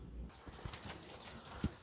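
Pigeons at a breeding setup, soft low cooing with a brief wing flap, faint and close in a quiet space.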